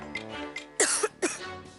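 Several coughs and throat-clearing sounds from a woman, loud and close, in two or three bursts between quieter breathy moments, with no talking.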